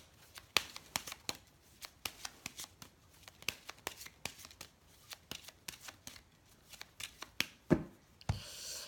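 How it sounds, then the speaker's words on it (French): A deck of Petit Lenormand Gilded Reverie cards is shuffled by hand in crisp, irregular riffling bursts, close and fairly quiet, with a final flurry of card slaps at the end and no talk. "je vais tirer des cartes avec le petit Lenormand Gilded Reverie"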